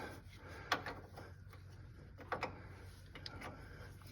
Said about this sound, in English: come in with your trusty cutoff 18 Evercraft wrench